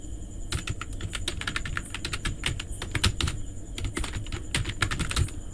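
Steady rapid typing on a computer keyboard while writing Google Apps Script code for a Google Sheets sidebar, crisp close key clicks in an uneven quick rhythm, with no voice.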